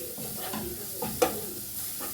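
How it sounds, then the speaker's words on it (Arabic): Plain Egyptian rice stirred with onion in a pan, with a few soft spoon scrapes over a low, steady sizzle. "وابدا اقلب كده كل ده مع البصله"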